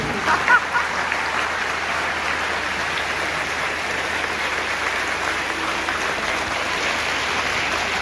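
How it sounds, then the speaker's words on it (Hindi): An audience at a Chanakya play performance in a gurukul claps steadily and loudly, a sustained dense applause filling the whole stretch without letting up. "तो मैं आप अपने लिए जोरदार तालियां बजाइए।"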